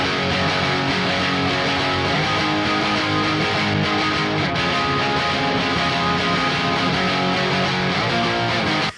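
Electric guitar played through an amp simulator with stock pickups in a pop punk style, compressor switched off, giving a low-gain tone; steady, full strummed chords ring continuously at a loud level without pause.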